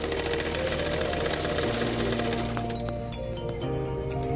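A sewing machine stitches a katori blouse with rapid, even mechanical rattling that slows and shifts near the end, close and fairly loud, with no talk.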